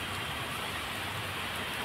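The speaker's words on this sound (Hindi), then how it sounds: "बारिश होने लगी है" Steady rain falls in a dense, even hiss of drops striking nearby surfaces, continuous and close with no voices.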